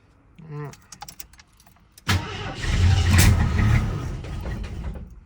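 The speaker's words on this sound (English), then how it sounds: "that backfire nearly took me out" An AMC Concord, parked for 26 years, cranks after a few faint clicks and key jingles, then erupts into a loud, sudden roar that churns and rumbles close by for several seconds.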